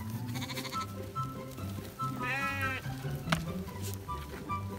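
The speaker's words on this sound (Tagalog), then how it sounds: "Ayun yung tupa natin." Sheep on a farm bleat repeatedly, with one loud, wavering bleat standing out near the middle and fainter calls around it against a busy farmyard background.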